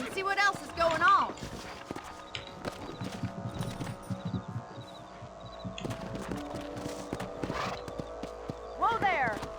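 Horse hooves clip-clop in Red Dead Redemption as riders move along, a steady run of hoofbeats with a whinny near the start and end, mixed under ongoing character talk.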